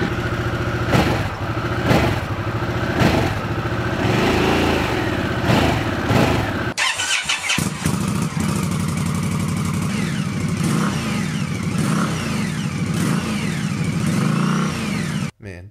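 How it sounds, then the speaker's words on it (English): Stock exhausts of a Harley-Davidson Sportster S and an Indian Scout Bobber: one cruiser idles and blips its throttle in loud, close bursts, then the second bike takes over with a steady, rumbling run and further revving. "Let's also have a listen to their stock exhaust sounds."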